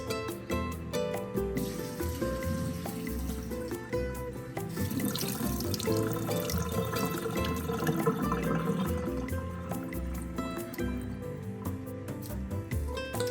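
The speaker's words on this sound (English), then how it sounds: "The main ingredient in the stuffing is rice. I'm going to wash it thoroughly." Rice is washed in water for a vegetable stuffing, with continuous running, splashing water and sloshing as the grains are rinsed, fairly steady and up close with a louder swirl midway.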